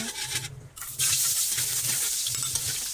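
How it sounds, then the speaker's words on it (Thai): Garlic fries in a pan for crab stir-fried with curry powder, giving a loud, steady, close sizzle with a brief quieter dip and occasional stirring scrapes. "เราก็จะกระเจียวกระเทียมให้หอมหอม"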